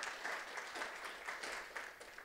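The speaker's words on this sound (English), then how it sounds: "It's okay to clap." Faint audience clapping at an indoor talk at The New School in New York, a brief quiet patter of applause from a small crowd.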